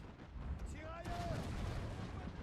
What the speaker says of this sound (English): Oh, the Gatling gun is already opening up.